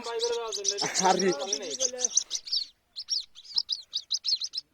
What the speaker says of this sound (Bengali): কোড়া পাখির বাচ্চা